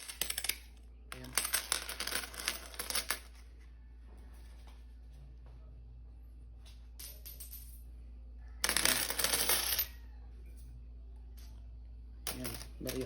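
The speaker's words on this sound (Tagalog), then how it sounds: "Ayan, barya." Coins from a day's tricycle earnings in Antipolo clink and jingle in bursts as they are handled and counted, with quiet pauses between handfuls.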